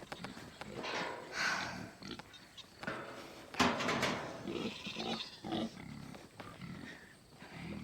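Big feeder pigs on a farm on a hot day, grunting and snorting steadily and fairly close, with other farm animal calls and some movement noise around them.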